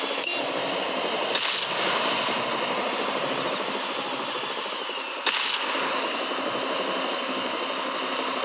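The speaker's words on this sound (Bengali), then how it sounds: "আরে এখন হেলিকপ্টারের কি হচ্ছে? আরে হেলিকপ্টার কি ক্র্যাশ হবে নাকি?" A helicopter in the video game Dude Theft Wars drones on steadily, a dense, continuous engine and rotor roar with a slight wavering, fairly loud and heard alone.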